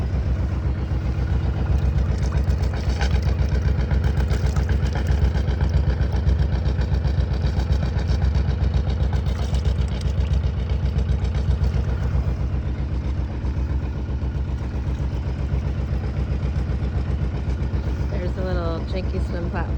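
An engine idles aboard a 27-foot Ericson sailboat with its exhaust running, a steady low rumbling drone throughout, with faint background noise and no clear change in pace.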